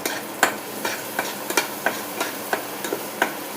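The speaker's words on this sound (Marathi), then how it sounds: "बघा प्राप्ती मस्तपैकी अशी फ्राय करून घेत आहे" Chopped onions frying in a pan for a spring pasta, with a soft continuous sizzle broken by regular spatula scrapes and knocks roughly every half second.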